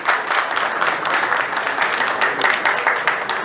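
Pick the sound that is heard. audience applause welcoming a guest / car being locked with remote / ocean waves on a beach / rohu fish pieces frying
audience applause welcoming a guest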